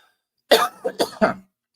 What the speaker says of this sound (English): trying not to die from this cough